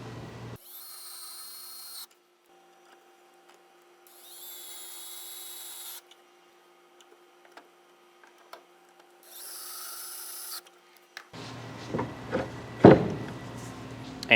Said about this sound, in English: And we can install 2 pocket screws.